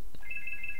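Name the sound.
telephone ringing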